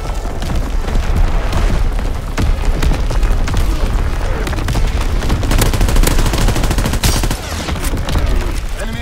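Artillery shells and bombs burst in Call of Duty WWII, loud booming blasts overlapping with heavy gunfire in a dense, continuous roar of battle.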